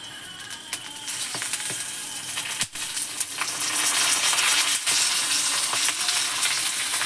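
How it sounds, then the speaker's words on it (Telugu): Green chillies fry in oil in a pan while a spicy peanut chutney is made. A bright continuous sizzle grows louder partway through, with sporadic pops and a few utensil taps up close. "ఆయిల్ వేసుకొని బాగా ఫ్రై చేసుకుందామండి పచ్చిమిర్చిని"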